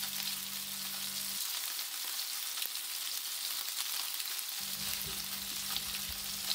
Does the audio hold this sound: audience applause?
no